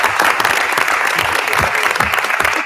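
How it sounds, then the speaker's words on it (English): An audience at a work commission meeting applauds a speaker, full steady clapping filling the whole stretch, close and fairly loud. "please join me in giving Dane a round of applause"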